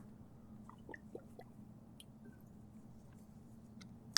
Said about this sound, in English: I'm going to take a sip right now.